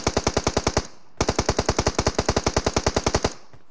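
Automatic gunfire in a shooter video game: two loud, close, rapid bursts of evenly spaced shots, a short one then a longer run, separated by a brief pause and with no talk over them.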